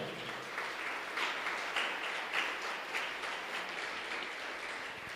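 A church congregation applauds in a soft, sustained wash of many hands clapping, heard from some distance with no voices on top.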